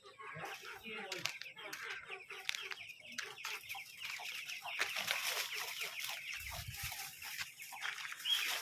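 Chickens cluck and chatter steadily nearby, a busy overlapping flock sound with faint voices mixed in underneath.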